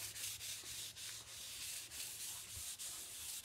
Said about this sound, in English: I'm just going to give it a little bit of wax.